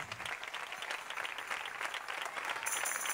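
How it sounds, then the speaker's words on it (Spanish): Audience applause fills an outdoor stage at a town fair concert, a dense steady clapping from a crowd that holds at even loudness throughout, fairly distant and without speech over it. "Un fuerte aplauso para ellos, Ángel Bellido y Aisa Bordas."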